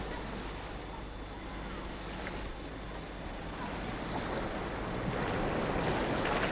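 Ocean surf rolls onto a beach at Luanda, a broad wash of breaking waves with wind noise, faint and distant at first and building slightly louder toward the end.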